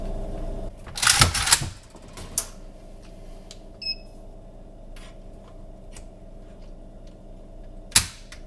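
A JTS M12AK 12-gauge AK-style shotgun is dry-fired on a digital trigger gauge, giving a few sharp, close mechanical clicks and snaps spread out over a quiet hum, with a brief cluster of handling noise near the start.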